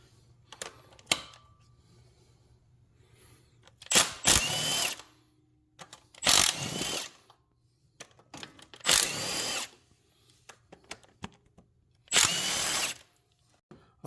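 Power drill spinning out the 12 mm AC pump bolts on a 2022 Honda Civic, four separate loud whirring bursts of a few seconds each, evenly spaced, with clinks and handling noises between them.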